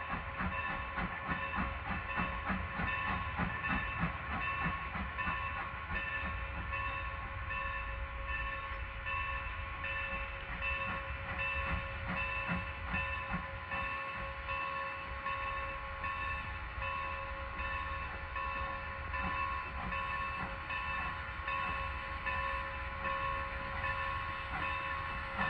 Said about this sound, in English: the 12 o'clock train is coming back